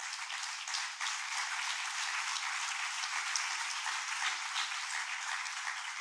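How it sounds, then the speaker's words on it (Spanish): A church congregation applauds a young man who came to the youth meeting, giving a steady, sustained wash of many hands clapping that sounds thin and somewhat distant, with no voices over it. "Usted me le regala un aplauso"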